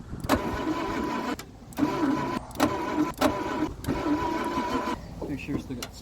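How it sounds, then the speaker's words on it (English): Starter on a barn-stored 1948 Packard Straight 8 cranks the engine in several sustained bursts separated by short pauses, loud and close, with a steady whirring drone. "Flip the starter over."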